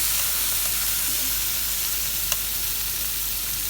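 Potatoes fry in a preheated pan with a continuous, even sizzle and hiss, steady and close, with one faint tap partway through.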